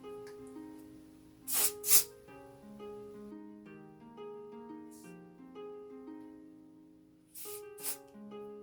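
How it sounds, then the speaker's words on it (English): Hair spray misted onto a frontal wig in a few short, sharp hissing bursts, a quick double spritz early and another pair near the end, with soft background music running underneath. "I'm just adding extra spray because I'm not feeling that tightness"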